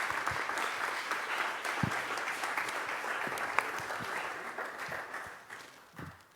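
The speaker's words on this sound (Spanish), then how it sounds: "Un aplauso para el autor." An audience at an international book fair presentation claps for the author in a steady round of applause, a dense crackling wash at moderate distance that thins out toward the end.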